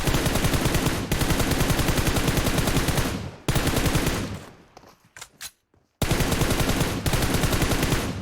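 Loud, sustained automatic gunfire in a video game: long rapid machine-gun bursts separated by a short pause with a few scattered shots, and no talking.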